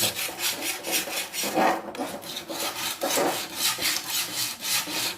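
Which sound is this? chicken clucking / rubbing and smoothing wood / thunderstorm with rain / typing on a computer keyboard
rubbing and smoothing wood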